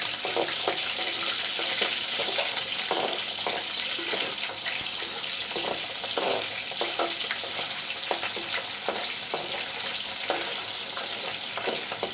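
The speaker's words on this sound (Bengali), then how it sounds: "সবার আগে আমি একটু তেলের মধ্যে চুরি থেকে একটু ভেজে নিব" Churi (small dried fish) frying in hot oil in a village kitchen, a steady dense sizzle throughout with occasional stirring scrapes and clinks, no voices.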